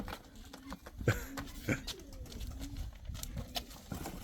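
Pigeons coo softly at close range in a few low, rolling calls, mixed with light pattering and rustling movement. The sound is fairly quiet overall.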